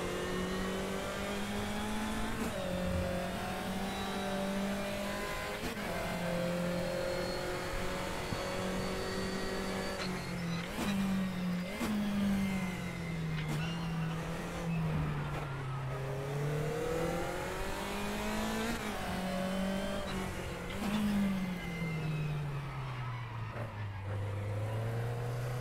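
A race car engine in the RaceRoom sim game howls through repeated upshifts and downshifts, pitch climbing and dropping over and over as the car laps, steady and loud with no voices.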